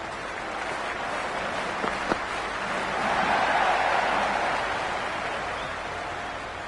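A large cricket stadium crowd in a video game roars and applauds in a steady wash of noise, swelling louder in the middle before easing back, with no one speaking.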